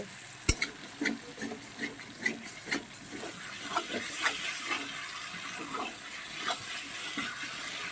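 Potatoes and soybean chunks with spices being sautéed in a pan at home, with a soft sizzle and frequent scraping, stirring clatters of a spatula against the pan, close and moderately quiet throughout.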